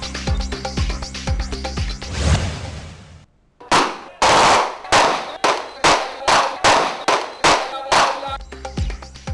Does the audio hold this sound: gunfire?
yes